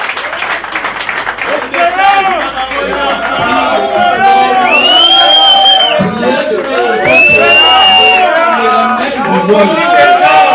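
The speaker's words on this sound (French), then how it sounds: "Sous nos applaudissements, s'il vous plaît." A crowd at a political party meeting with party cadres and fighters present breaks into loud, sustained applause and cheering, with shouts and whistle-like cries rising over steady clapping throughout.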